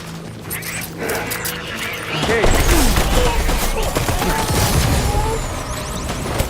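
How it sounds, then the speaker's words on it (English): Assault rifle fire in the video game Death Stranding, with rapid, loud bursts of gunshots and clattering impacts over several seconds, mixed with game sounds. "Assault rifle."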